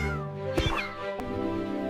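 A kitten gives a couple of short, close meows over a steady tonal musical background with no talking.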